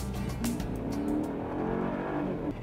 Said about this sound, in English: a nice subdued growl from the V8 engine